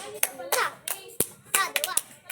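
Hands clap in a children's clapping game: several sharp, separate claps in an uneven rhythm, some in quick pairs, close and loud, with children's voices chattering between them.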